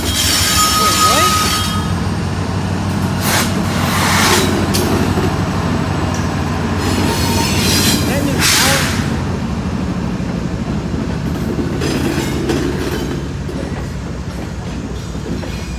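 CSX freight F787 and Norfolk Southern freight P86 rolling together through Spartanburg, South Carolina, a continuous loud rumble of rail cars with clacking wheels and brief squeals, close by, with some talk over it.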